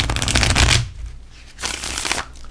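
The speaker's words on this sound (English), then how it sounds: "Shuffles like a dream, guys." A Healing Light tarot deck is shuffled by hand in two quick riffling bursts, close and crisp, with a short pause between.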